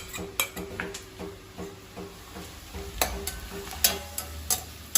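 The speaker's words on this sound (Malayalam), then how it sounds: "ഉള്ളി നന്നായിട്ട് ഫ്രൈ ആയി വന്നിട്ടുണ്ട്" Onions fry in oil for mutton biryani under a soft, low sizzle, punctuated by frequent metallic clinks and taps of a spoon stirring against the pan, irregular and close.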